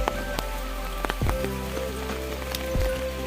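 Raindrops fall outdoors in a flooding village, a close patter of irregular taps and drips over a low steady hum, fairly quiet and without speech.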